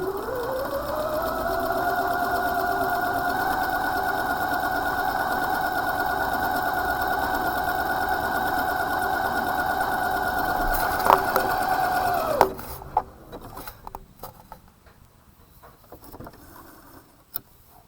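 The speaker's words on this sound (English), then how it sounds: "this one is going to do a straight stitch on the left side, and then it's going to jump over to a little bit of a zigzag on the right side" A sewing machine runs a stretch stitch, a straight stitch on one side and a zigzag on the other, with a steady loud whirring hum for about twelve seconds, then stops and leaves soft clicks and handling noise.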